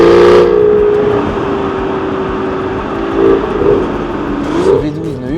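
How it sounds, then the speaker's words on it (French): An Aston Martin Virage V12 pulls with a loud, smooth, humming engine tone that holds steady, then climbs in pitch near the end as the engine revs up. "Ce V12 ne hurle pas immédiatement, il monte en puissance doucement"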